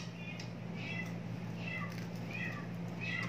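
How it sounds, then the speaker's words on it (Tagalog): A house cat cries with repeated meows, about five short plaintive calls spaced roughly evenly, fairly close, over a steady low hum. "Ang pusa ko umiiyak."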